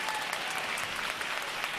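Dense audience applause at a talent showcase, a continuous wash of many hands clapping close and loud, with no speech over it.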